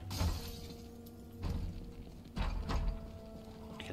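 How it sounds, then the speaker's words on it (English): Glass smashing in the Project Zomboid video game: two or three sharp shattering crashes spaced a second apart, moderately distant, each with a brief ringing tail over a quiet hum. "I can hear more glass smashing"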